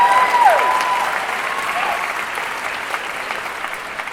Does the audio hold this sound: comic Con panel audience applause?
yes